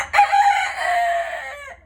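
A single loud rooster crow, drawn out for nearly two seconds, close by and clear.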